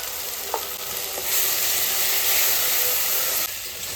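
Potatoes and spices stir-fried in a pan, with a steady broadband sizzle and hiss that swells louder midway, plus a couple of brief scraping stirs near the start.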